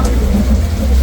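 Heavy rain falls at an outdoor food festival in Kutaisi, a dense, steady wash of loud close drumming on surfaces filling the whole moment with no pause.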